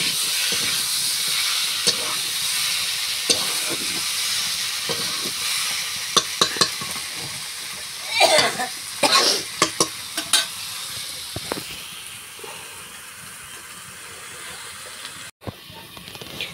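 Pieces of shol fish sautéing in a pan, a continuous hissing sizzle close by with occasional scrapes and a burst of louder spatter and clatter midway, no talking.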